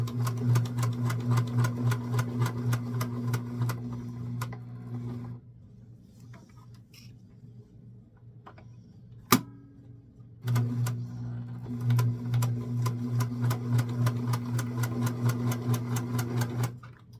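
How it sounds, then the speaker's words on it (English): A sewing machine stitches a seam on a small doll dress in fast, even bursts, running for about five seconds, pausing through a quiet stretch with one sharp click, then running again, close and loud. "We're now going to sew down one side of the seam, across,"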